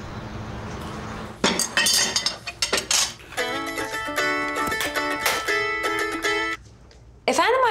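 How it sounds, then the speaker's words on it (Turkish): Pots, pans and cutlery clink and clatter during dishwashing in a home kitchen, a busy run of metallic and glassy knocks and rings, fairly close and loud, over a faint background. "Hadi bulaşıklar var."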